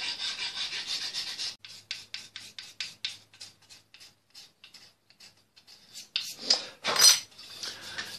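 A hand file rasps along a wooden fiddle neck near the black fingerboard, a dense stroke run at first, then a series of short separate strokes in a steady rhythm, close and fairly soft, ending in a few sharper scrapes.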